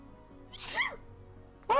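A single loud, breathy sneeze bursts out at close range, followed a moment later by a brief voiced exclamation.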